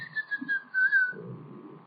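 A shrill, piercing whistle of the pombero, a sustained high tone held in two long wavering bursts with a short gap, then cut off as low rumbling noise takes over.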